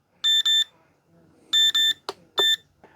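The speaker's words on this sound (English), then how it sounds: "what's the alarm going for?" Electronic alarm clock beeping in short paired bursts, repeating three times, loud and close, with a brief knock or click between.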